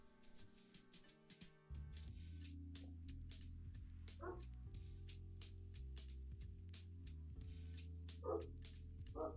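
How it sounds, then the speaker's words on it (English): A neighbor's dog barks repeatedly outside the window, sharp yips and woofs in irregular bursts over a steady low background hum, fairly distant and moderately loud. "And the dog is barking again"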